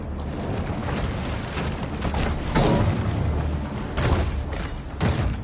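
Gunfire from a double shot in the PS5 video game Maneater: a few heavy, booming bursts over a steady low rumble of underwater game ambience, with no talk.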